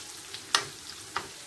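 Chicken liver frying in a pan gives a quiet, steady sizzle. A few brief louder pops and crackles break through it over about a second and a half.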